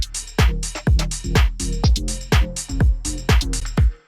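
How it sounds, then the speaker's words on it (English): Straight sixteenth-note drum groove loop with deep kicks and crisp bright hits in an even, unswung pattern, cycling steadily for a few seconds, close and loud, with no voices. "So right there is straight 16th notes"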